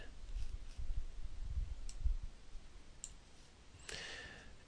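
A computer mouse clicks a few times, sharp and brief, spaced out over a faint room hiss with low handling noise, no talking.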